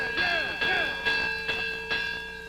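The Swarthmore College bell rings five times at a steady pace during a college sports game, each clear metallic strike ringing on and overlapping the next.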